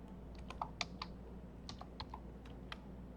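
A publisher name is typed on a computer keyboard, with quiet, irregular key clicks in short bursts over a low steady hum. The keystrokes sound close but soft.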